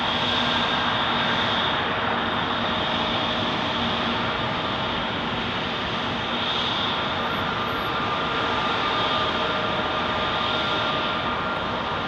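A Delta Airlines airliner bound for Minneapolis roars steadily and loudly for several seconds at a busy airport, a broad, constant jet rumble with no breaks.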